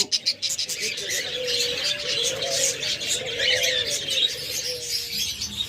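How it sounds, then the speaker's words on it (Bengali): Diamond doves sitting in a nesting bowl call softly with low, drawn-out coos, while brighter chirps from other pet birds in the aviary fill the background throughout. "চমৎকার ডায়মন্ড ঘুঘুগুলা একদম ডিম পাড়া পাত্রে বসে আছে"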